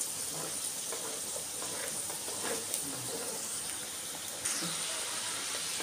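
Indian gooseberries (amla) fry in a pan with a steady broad sizzle, close and fairly loud, with faint scattered clinks and a brief rise in intensity near the end.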